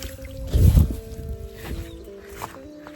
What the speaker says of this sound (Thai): ผมลงไปล้างมือก่อนนะ นี่ล้างมือเรา